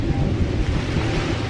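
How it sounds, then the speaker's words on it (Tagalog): Strong wind roars steadily against the microphone in a dense, rumbling rush, close and loud with no pauses and no talking. "Lakas ang hangin, oh."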